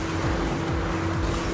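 A Porsche 911 in Need for Speed Rivals, in police mode, races flat out down a straight at around 346 km/h on nitro. It gives a steady, loud engine drone with a constant high tone and no breaks.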